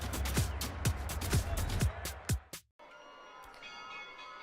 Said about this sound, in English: as they ring the victory bell over there on the other side of the field